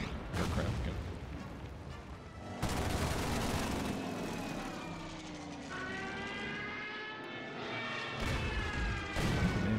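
Artillery fire against an anti-aircraft gun in the WWII strategy game Order of Battle: Blitzkrieg, a couple of heavy booming blasts over a droning aircraft engine hum, moderately loud, with speech mixed in.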